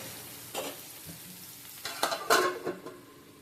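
Tomatoes cooking down in a pan, a soft sizzle under intermittent stirring scrapes and clinks of a spoon against the pan, with a few louder scraping strokes near the end, no talking.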